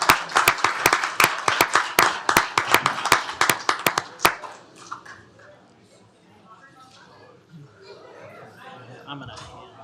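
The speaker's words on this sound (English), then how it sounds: "One more round of applause for our employees" A round of clapping for employees at a county commissioners court meeting, sharp individual claps in quick succession for about four seconds, then fading into low room chatter and murmuring voices.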